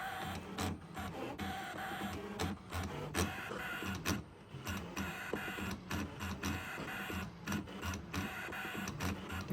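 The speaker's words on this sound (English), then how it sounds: "The rotary cutter kind of jumps around." Brother ScanNCut SDX325 cutting machine running its rotary cutter over fabric, with close, busy mechanical whirring and stop-start motor bursts that jump around in an irregular rhythm.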